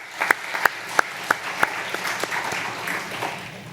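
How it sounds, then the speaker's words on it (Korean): A church congregation at a Wednesday worship service gives a few sparse, evenly spaced handclaps for a small vocal ensemble that has just sung, with close, distinct slaps and no talking. "우리 하나님께 영광 돌리고 축복의 박수 보내주시기 바랍니다"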